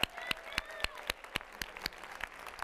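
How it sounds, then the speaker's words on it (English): A small audience at a university investiture ceremony gives a quick round of applause for first-year student volunteers, with scattered individual claps rather than a dense roar, fairly faint and sparse. "can we give them a round of applause really quickly?"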